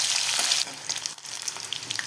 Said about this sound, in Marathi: मिरची परतल्यानंतर हा लसूण घालायचा आहे